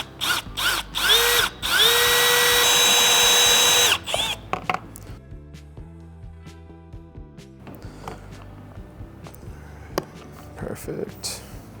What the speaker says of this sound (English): first I'm gonna use a step drill bit to drill a hole big enough